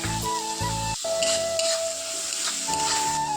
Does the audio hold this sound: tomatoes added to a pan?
yes